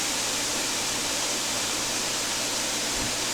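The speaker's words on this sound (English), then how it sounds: "So now you can add the vinegar." Vinegar poured into a cooking pan while preparing escabeche, fried fish in sweet and sour sauce, giving a steady, even rush of hissing liquid noise that runs unbroken through the whole short stretch.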